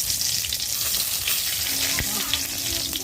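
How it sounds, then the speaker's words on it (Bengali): Cumin seeds and two dried red chillies sizzle in hot oil for mutton kosha, a steady close crackling hiss broken by small pops and a brief scrape. "এবার ওই তেলের মধ্যে একটু জিরা ফোড়ন, দুটো শুকনো লঙ্কা"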